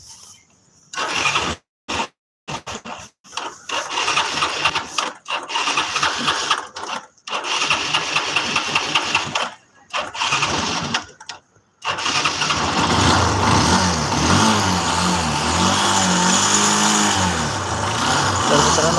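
A broken-down vehicle's engine cranks repeatedly in stuttering bursts with gaps, then catches and runs into a loud, steady idle with revving; a person talks over the early attempts.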